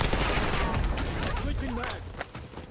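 Rapid gunfire from a drive-by shooting in the video game Warzone, a dense burst of shots over continuous game noise that tapers off, with a few sharper pops near the end.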